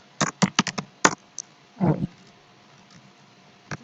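Fingers type ipconfig on a computer keyboard in a quick burst of close key clicks, then a heavier keystroke, with a single tap after a short pause.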